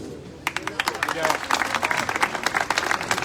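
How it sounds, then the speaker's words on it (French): An audience at a protest outside the Azerbaijani embassy in Paris breaks into applause, a burst of scattered clapping that rises after a brief pause and continues unevenly at moderate loudness for a few seconds. "Et vous pouvez applaudir."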